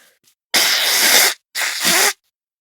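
Two forceful bursts of breath blasted through the nose, the first longer, the second shorter after a brief pause, close and loud.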